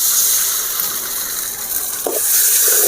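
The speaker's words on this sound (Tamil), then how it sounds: "இந்த நேரத்தில் முட்டையை ஊற்றிக்கலாம்." Beaten egg poured into a hot pan of moringa-leaf fried rice, producing a loud, steady close-up sizzle with a brief bubbling burst partway through.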